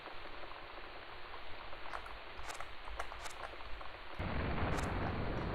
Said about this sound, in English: the sound of the rain is nice